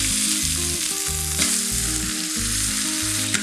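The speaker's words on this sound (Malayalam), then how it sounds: "ഈ ചിക്കൻ നന്നായിട്ടൊന്ന് പൊരിഞ്ഞിട്ടുണ്ട്." Pressure-cooked chicken pieces fry in oil on a tawa, a steady loud sizzle with occasional scraping stirs and a sharp clack near the end.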